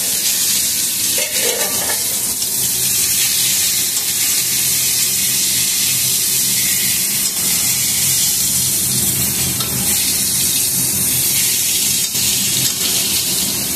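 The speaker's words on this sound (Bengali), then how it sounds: "নুন হলুদ আর চিনি মাখিয়ে রেখেছিলাম, এই বেগুনটা ভাজা করছি।" Brinjal slices coated in salt, turmeric and sugar fry in a pan with a loud, continuous close-up sizzle, crackling and hissing steadily for the whole stretch with occasional stirring.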